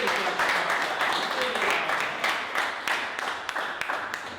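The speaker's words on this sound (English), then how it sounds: "Give them a massive applause." Applause from a group in the Vrygrond township of South Africa, fairly close clapping that runs steadily for a few seconds and thins out toward the end.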